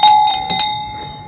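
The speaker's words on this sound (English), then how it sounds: "Alright, ring the bell." A bell at a caravan park rings in a few bright, ringing strikes close by: two quick clusters of metallic dings that fade into quiet.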